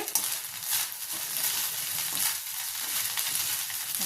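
Salted cumin rice being mixed in a pan, a steady soft sizzling hiss with faint scraping of the stirring, close and continuous, with no talking.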